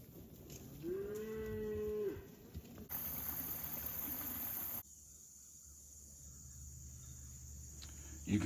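A cow gives one clear, drawn-out moo in a quiet farmyard, followed by soft crickets and outdoor ambience with some faint background noise.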